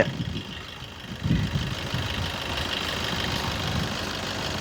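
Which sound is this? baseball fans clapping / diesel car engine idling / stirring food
diesel car engine idling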